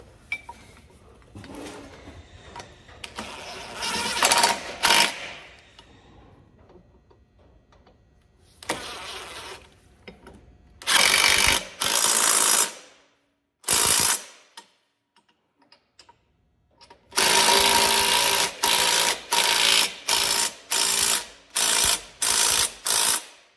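A 3/8 drive power tool tightening bolts, with bursts of fast ratcheting clatter: a couple of short runs, then longer repeated loud bursts in quick succession, close up with quiet gaps between.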